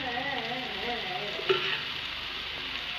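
Shallow frying in a little oil until crispy, a steady close sizzle with a soft stir at mid-clip, no voices.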